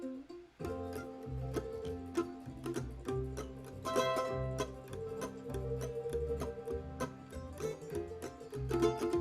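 Bright plucked mandolin strums in a steady, driving rhythm, with quick decorative runs woven between the chords, played close and alone without any voices.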